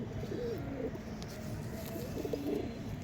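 A pigeon coos softly in a couple of low, rolling phrases close by, over a quiet background hum.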